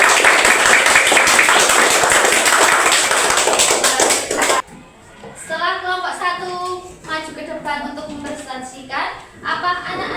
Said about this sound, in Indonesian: Tepuk tangan untuk Mbak Putri